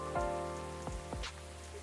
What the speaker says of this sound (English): I just really love it when it rains outside and you're all warm indoors.